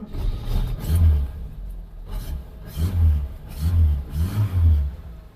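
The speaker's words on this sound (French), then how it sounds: "là on va essayer de faire un petit tour, voir au niveau de l'accélération qu'est-ce que ça donne" Renault 10 with a cast-iron Cléon engine pulling away on a drive, low engine rumble swelling in several rising surges of acceleration, close and fairly loud with no talk.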